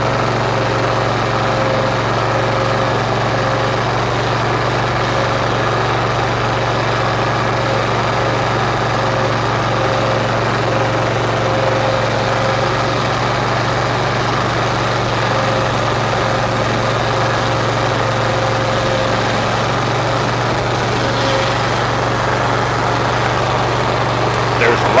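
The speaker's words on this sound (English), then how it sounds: "I got it about half throttle." An engine runs steadily at about half throttle, a loud and constant close drone throughout with no break.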